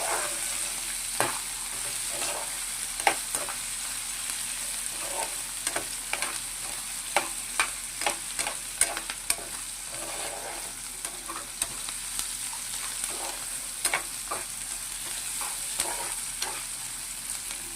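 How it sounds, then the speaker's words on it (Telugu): Chopped onion sizzles steadily in hot oil in a pan for a tomato egg curry, with a spoon scraping and stirring in irregular clacks throughout; no voices. "కొంచెం ఫ్రై చేసేస్తున్నాం కొంచెం మంచిగా ఒక ఫిఫ్టీ పర్సెంట్ వేగితే సరిపోతుందండి ఆనియన్"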